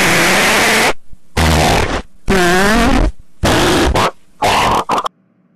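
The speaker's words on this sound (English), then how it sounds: "Now is our chance to let out our huge giant farts." Five loud, close fart sounds burst out one after another, some short and flat, one longer with a wobbling, buzzing pitch, separated by brief silences.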